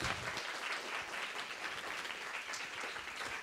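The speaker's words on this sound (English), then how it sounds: "Time to clap." Steady applause from an audience, a dense wash of clapping that holds at even loudness throughout, with no voices.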